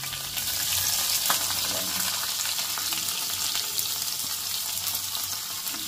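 Chopped onion sizzling steadily in hot oil with curry leaves and green chillies in a home kitchen pan, a continuous close fry with faint stirring and no talk.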